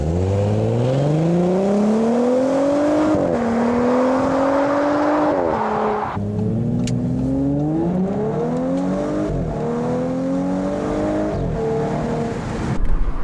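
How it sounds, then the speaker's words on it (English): A 2017 Audi S5 Cabriolet pulls hard through the gears, its quad exhausts giving a loud, steady engine note that climbs in pitch with each gear and drops at the shifts, heard throughout without talk. "Those quad exhausts singing behind me, and what a lovely tune it is."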